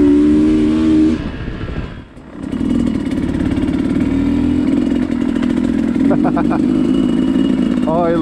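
A dirt bike rides through a field, its engine buzzing loudly and close, dipping briefly before climbing back to a steady throttle, with a voice speaking over it.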